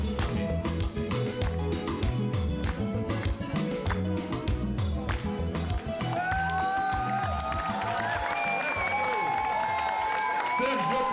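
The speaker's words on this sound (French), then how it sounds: "Allez, on applaudit. On applaudit très fort." Applause and cheering from a Cameroonian television studio audience after a love song, steady and loud throughout, with music and a voice surfacing over the clapping in the second half.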